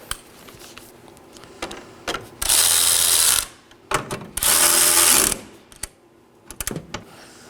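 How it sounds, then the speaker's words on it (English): A ratchet tightens 10mm nuts on a car battery hold-down, a 2018-2024 Chevrolet Equinox 1.5L: two loud, sustained bursts of rapid clicking close by, separated by softer handling clatter, with no talking. "Just thread on your 10mm nuts. And now just simply snug these down."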